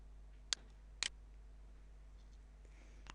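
Two sharp computer mouse clicks, near and distinct, about half a second apart, with a fainter click at the end, during Gmail account setup in a quiet room.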